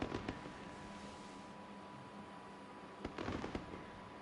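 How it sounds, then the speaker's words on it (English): Fireworks at Abu Dhabi in the video game F1 23, a few faint, distant pops and crackles in two brief bursts over a quiet background hum. "They're already blasting out the fireworks."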